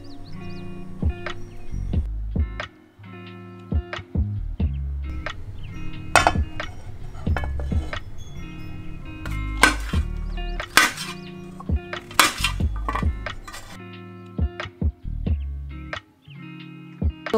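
A knife slices and chops mushrooms on a cutting board in a home kitchen, producing irregular clicks and knocks at close range, with a background melody playing throughout.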